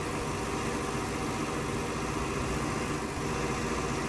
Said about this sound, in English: Brand new Z-Tour tractor.